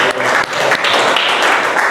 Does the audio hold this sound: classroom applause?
yes